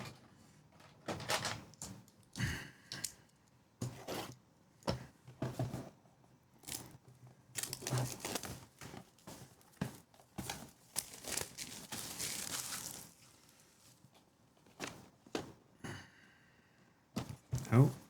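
Packaging of a MOKiN 140W charger and 45W power bank being opened: close, intermittent bursts of crinkling, tearing and rustling with soft thunks, scattered through the stretch with short pauses.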